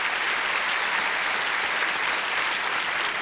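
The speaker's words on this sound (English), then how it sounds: "Applause, applause, applause." Studio audience on a 1980 television game show breaks into sustained, dense applause, steady and loud throughout with no voices over it.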